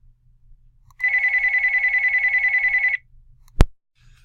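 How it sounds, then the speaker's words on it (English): A telephone rings out loudly in a lecture room, one steady two-second burst of rapid electronic trilling, followed by a sharp click. "Looks like we're getting a phone call in here."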